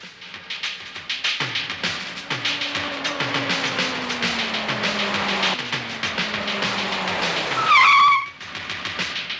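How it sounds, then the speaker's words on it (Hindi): A car pulls up with a steady, moderately loud rolling rumble and a sweeping drone, then gives a brief sharp squeal or horn-like tone near the end, with no voices. "अरे लगता है गाड़ी आई, साहब लोग आ गए"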